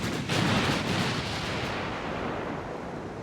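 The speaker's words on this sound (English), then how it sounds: "You guys fire on that fucking battle cruiser." Naval artillery fire from battleships and cruisers in Ultimate Admiral: Dreadnoughts, a dull broad boom followed by a long fading rumble, moderately distant and fairly quiet.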